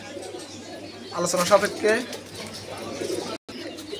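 Pigeons and doves coo in a crowded bird market stall among a pigeon seller's stock, a burst of soft cooing calls rising over market chatter and nearby talk.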